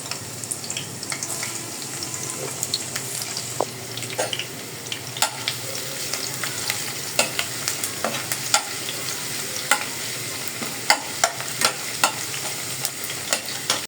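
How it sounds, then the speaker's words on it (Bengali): Onions sizzle in hot oil in a wok, a steady close fry punctuated by repeated scraping and stirring knocks of a utensil against the pan, with no voices. "অল্প একটু পেঁয়াজ বেরেস্তা করে নিব।"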